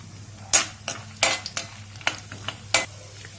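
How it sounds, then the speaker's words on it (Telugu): Cashews and almond pieces frying in ghee, a quiet sizzle broken by several distinct scraping strokes of a spoon against the pan at irregular intervals, close up and with no talk. "జీడిపప్పులు ఫ్రై చేసుకుందాం వీటితో పాటు కొన్ని బాదం ముక్కలు కూడా ఫ్రై చేసుకోండి"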